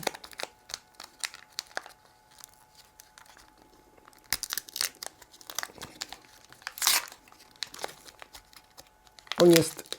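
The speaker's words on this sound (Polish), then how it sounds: "Rozrywamy folię" Foil wrapping of a 120 roll film is crinkled and torn open by hand in close, irregular bursts, with a sharper rip near the end.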